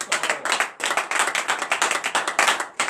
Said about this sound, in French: Donnez l'acclamation à l'Éternel ce matin.